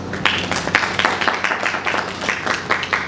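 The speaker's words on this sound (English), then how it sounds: "Please, a round of applause to all of us." Steady applause from a conference audience, many hands clapping together in a dense, even patter that holds at moderate loudness throughout.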